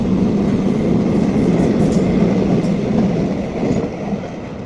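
A train passes nearby in Korea, a loud steady rolling roar and rumble that fades slightly toward the end, with no speech.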